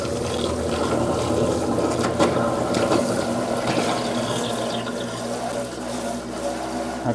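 Tap water runs steadily into a kitchen sink while a rabbit's foot fern pot is rinsed clean, a continuous close splashing rush that stays even throughout with no voices.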